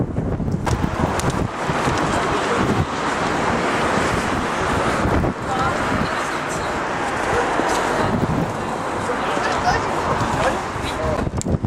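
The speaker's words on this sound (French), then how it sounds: "il y a un grand coup de vent, j'espère que le son sera bon" Strong gusts of wind buffet a microphone outdoors, a loud continuous roar with surging bursts throughout, while someone speaks French over the rumble.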